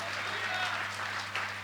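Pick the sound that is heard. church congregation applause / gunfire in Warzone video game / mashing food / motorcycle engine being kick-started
church congregation applause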